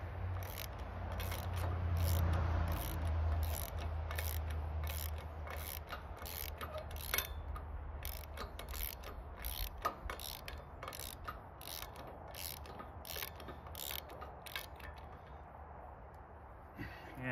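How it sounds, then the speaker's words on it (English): A ratchet tightening a captive nut on an Allwood wedge, with rapid, evenly spaced clicking strokes heard up close for many seconds over a low background hum. "tighten up our captive nut"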